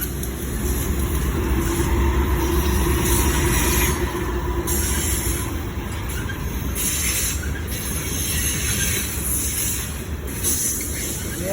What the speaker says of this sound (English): Now I don't know how fast the train will be going.